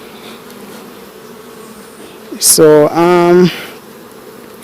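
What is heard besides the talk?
honey bees buzzing at hive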